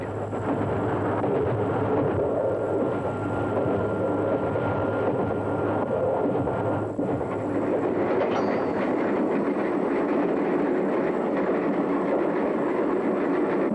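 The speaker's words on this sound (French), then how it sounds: "La locomotive belge, à son tour, va franchir cette frontière" A Belgian electric locomotive rumbles steadily along the rails toward the border on the 1960s Paris–Brussels line, with a continuous loud rolling drone and faint clatter throughout.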